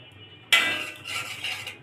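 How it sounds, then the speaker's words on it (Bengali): Half a bowl of semolina tipped into a kadai for a sweet palm-fruit fritter recipe, a sudden close hiss of grains landing in the pan, followed by a scraping, rattling shuffle for about a second. "এখন দিয়ে দিব হাফ বাটি সুজি"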